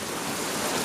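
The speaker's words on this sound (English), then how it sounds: "So it's still raining out" Steady, loud broadband hiss of rain falling outside, continuous and even with no talk over it.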